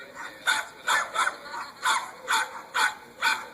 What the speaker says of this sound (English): That's what dogs do. They bark